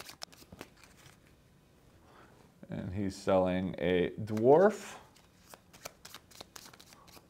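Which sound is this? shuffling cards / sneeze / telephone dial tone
shuffling cards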